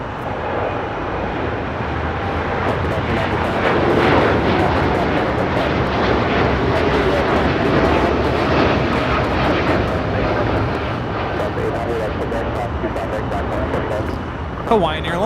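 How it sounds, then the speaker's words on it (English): A Hawaiian Airlines Boeing 787-9 Dreamliner takes off from Los Angeles airport bound for Honolulu, giving a loud, sustained engine roar with crackling rumble. It holds steady for several seconds, with faint voices and wind noise nearby. "Hawaiian Airlines Flight 3 taking off to Honolulu on the 787-9 Dreamliner"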